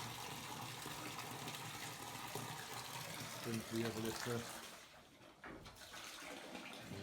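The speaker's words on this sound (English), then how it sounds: "so I'm filling her water up" A sow's water trough being filled on a pig farm, water gushing steadily from a tap or hose throughout, close by, with a person speaking briefly over it and animal or handling noises partway through.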